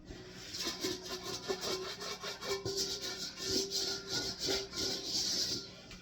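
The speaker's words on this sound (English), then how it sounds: "You scrape around just to get that extra gunk off" Homemade bread dough is scraped from around a bowl in soft, rhythmic rubbing strokes, close and moderately quiet, with no talking over the motion.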